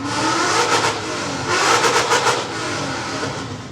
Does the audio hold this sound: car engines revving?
yes